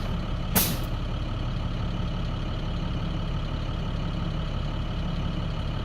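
A truck's air brake system letting out a short, sharp hiss of released air pressure near the start, followed by a steady diesel engine idling close by.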